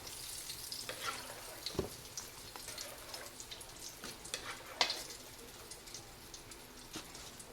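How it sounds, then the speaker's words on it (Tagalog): A first batch of chicken frying in hot oil, giving a steady, close crackling sizzle with scattered pops and spatters and occasional louder bursts throughout. "Yung ating unang salang na fried chicken."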